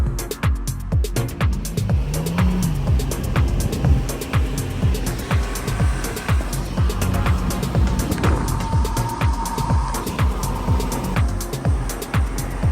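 A BMW car engine drives through soft sand with aired-down tires, giving a loud, close, continuous rumbling drone with shifting revs and gritty broadband noise throughout.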